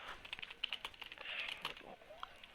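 Programmer typing code on a computer keyboard, a quick irregular run of light close key clicks with faint background voice.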